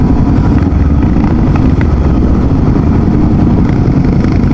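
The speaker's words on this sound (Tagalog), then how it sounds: "Ganun yung naririnig ko na tambutso." A Voge 300 Rally motorcycle exhaust rumbles continuously nearby, a loud, low, throaty putter with no pauses.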